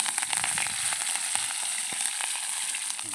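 Onions sizzle and crackle in hot oil for an onion curry being cooked outdoors at night in a palm grove, a dense, steady frying hiss with small pops throughout.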